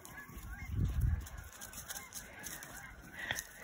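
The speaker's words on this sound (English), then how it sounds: "Oh, we got lots of geese coming over." A flock of geese honks as it flies overhead, a brief cluster of calls fairly faint and distant, followed by sparse outdoor sounds with no talking.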